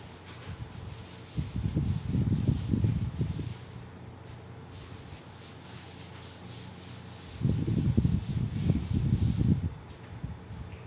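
Rubbing strokes on a classroom board during a maths lesson, two bursts of steady scrubbing a few seconds each, close and moderately loud, separated by a quiet pause.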